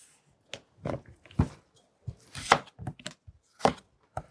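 Potatoes are chopped with a knife on a board in a home kitchen: irregular, close knocks and crunchy cuts come in short bursts with pauses between them, and no talking is heard.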